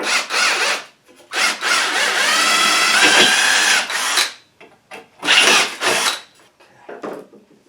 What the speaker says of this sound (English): I'm going to drill a hole in it.